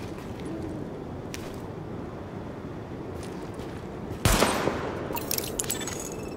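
Gunfire from a weapon test on a firing range in Tom Clancy's The Division, with a dense rumbling background and a sudden loud burst of shots near the end, followed by sharp crackling reports.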